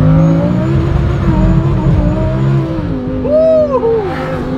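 A Lamborghini with electronic stability control off accelerates hard in a launch pull, the engine roaring loud and close with rising revs and a brief pitch drop at a gear change.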